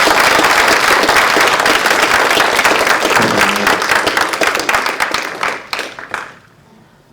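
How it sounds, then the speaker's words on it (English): Loud, dense audience applause for a speaker at an AI summit, a steady roar of many hands clapping that thins out and fades away over the last couple of seconds. "Can we give Brad a massive round of applause?"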